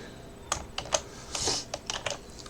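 Keys on a computer keyboard tapped while an Excel formula is entered, with a handful of close, crisp clicks in irregular bursts and one longer rattling stroke midway, and no voices.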